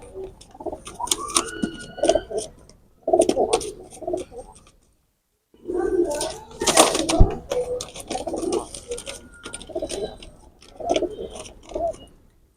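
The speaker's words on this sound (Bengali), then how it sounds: "এটা হচ্ছে মাদি কবুতর" Royal Teddy pigeons, a male and a female, give repeated throaty coos in bursts, close by, with a short silent gap midway and light rustling between calls.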